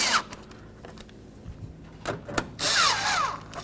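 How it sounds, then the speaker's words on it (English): A power tool tightens headlight assembly bolts on a 2007-2013 Hyundai Santa Fe, with a couple of brief whirring bursts, the longest near the end, separated by quiet handling clicks, close by. "let's tighten up our bolts"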